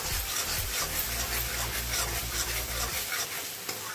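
Spice masala with salt being stirred and roasted in a pan for a potato and drumstick curry, a dense, even sizzle with a rhythmic low scraping of the spoon that stops near the end.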